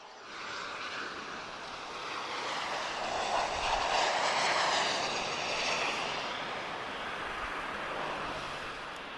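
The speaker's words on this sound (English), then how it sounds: "Air Algerie 737-800 arriving from Casablanca" An Air Algerie Boeing 737-800 arriving at Lisbon Airport from Casablanca gives a broad jet roar that swells to a peak midway, then slowly eases off, heard from a distance without talk.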